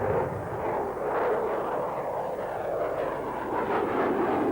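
A General Dynamics F-16 fighter jet of the Royal Netherlands Air Force flies at an airshow, its steady, broad engine roar continuous and loud throughout, with no speech over it.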